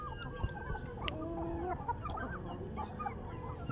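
Several chickens cluck and murmur steadily nearby, with a few sharper calls rising over the flock.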